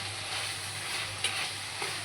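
Capsicum frying for besan bhaji, a steady close sizzle with a couple of soft spatula scrapes as it is stirred in the pan, no talking.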